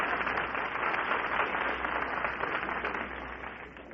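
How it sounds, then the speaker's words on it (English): A studio audience applauds at a game show, a dense, steady wash of clapping that carries on throughout and fades slightly toward the end. "I think you ought to get a big round of applause"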